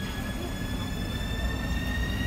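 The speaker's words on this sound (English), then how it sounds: "Okay, so I'm about to get on the metro down here." A Bucharest metro train rolls through an underground station, a steady low rumble of wheels on rail with a faint high squeal held throughout, close and continuous without pause.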